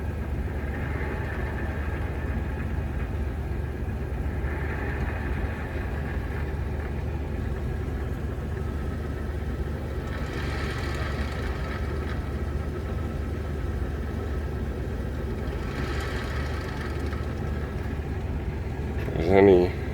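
Jeep TJ engine running steadily with the transmission slowly turning as the clutch is barely released, a low, even hum with faint periodic whirring swells and a short louder bump at the end.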